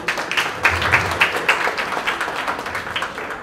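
An audience at a Marathi film music launch applauds for a couple of seconds, a dense and fairly loud wash of many hands clapping, with no voice over it.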